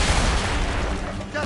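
Ship cannons fire in a naval battle in the Assassin's Creed Rogue video game, a dense, continuous barrage of heavy booms and rumbling blasts filling the whole stretch, with voices mixed in.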